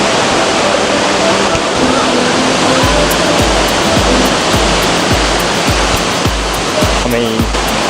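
Waterfall in the rain in Pai, Thailand, a loud, steady broadband roar of rushing water up close, with faint low thuds and a voice briefly present.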